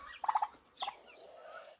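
A turkey on a village farm gobbles in two quick rattling bursts, fairly close and clear, with a quieter trailing call and no talking.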